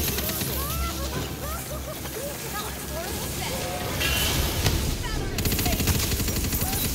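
Gunfire in the fantasy shooter game Tiny Tina's Wonderlands, rapid continuous bursts and shots rattling throughout amid dense game effects, loud and busy with no pause.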